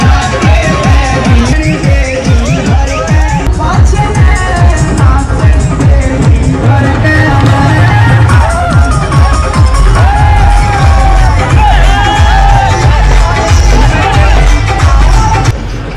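Dense crowd hubbub at a busy outdoor gathering in India, many voices babbling and shouting at once, with occasional whoops and cheers rising out of a steady, loud wall of noise.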